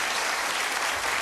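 Studio audience on a darts game show gives a brief, dense burst of applause, steady and fairly loud throughout.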